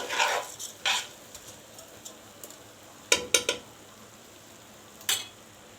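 A utensil stirring Egyptian rice with vermicelli in a pot, with faint light scrapes and a few sharper clinks against the pot spaced irregularly over quiet background.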